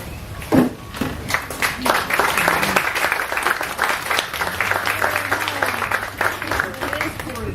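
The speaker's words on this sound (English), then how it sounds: "Deserve such a round of applause." A ceremony crowd applauds the main library staff, with steady clapping from many hands filling the room while a voice talks over it.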